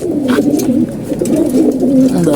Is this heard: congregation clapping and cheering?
no